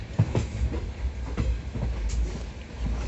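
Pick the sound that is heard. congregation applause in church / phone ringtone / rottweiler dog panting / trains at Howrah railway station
trains at Howrah railway station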